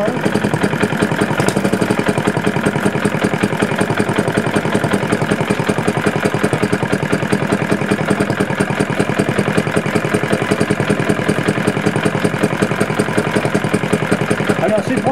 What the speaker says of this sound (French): On descend le ralenti pour avoir un ralenti assez lent.